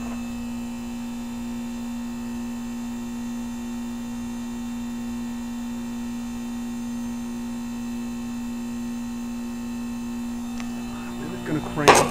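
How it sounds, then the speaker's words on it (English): A 1988 Heil 2-ton heat pump hums steadily while defrosting, a constant tonal drone held throughout, with a brief burst of clatter near the end. "It's defrosting."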